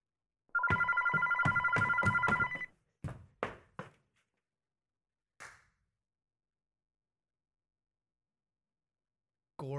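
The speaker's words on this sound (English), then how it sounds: "Oh, the phone's ringing." A telephone bell rings loudly in a steady trill for about two seconds, followed by a few short knocking thunks and a final faint tap, with quiet gaps between and no talking.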